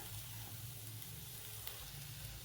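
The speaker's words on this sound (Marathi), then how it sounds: "मसाला छान परतला की तेल सुटेपर्यंत मसाला परतून घ्यायचा" Masala spice paste sautéing in hot oil for a Khandeshi mixed vegetable dish, giving a steady, even sizzle with a low hum underneath throughout.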